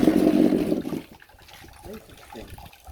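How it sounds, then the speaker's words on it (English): Water drains from pressed cassava pulp, a loud splashing pour for the first second that drops to faint trickles and drips. "Some more water draining."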